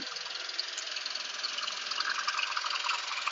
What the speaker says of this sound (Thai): รถบดก็จะทำงานไปเรื่อยๆอย่างเงี้ยครับจะไปเรื่อยๆช้าๆไม่ได้เร็วนะครับ